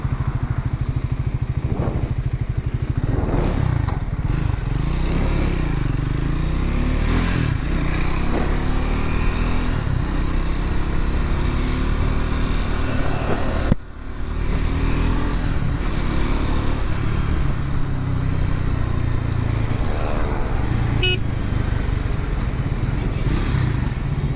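A Triumph Scrambler 400 X single-cylinder motorcycle is ridden on a test ride, its engine droning loud and steady throughout with wind rush, and one brief dip in the noise midway.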